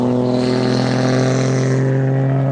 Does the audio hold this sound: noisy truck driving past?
yes